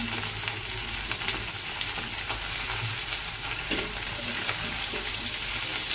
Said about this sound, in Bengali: পেঁয়াজটা একটু ভাজা ভাজা হয়ে গেলে হালকা একটু সামান্য তেলের মধ্যে 2-1 সেকেন্ড রেখে আমি দিয়ে দিব আলুগুলো।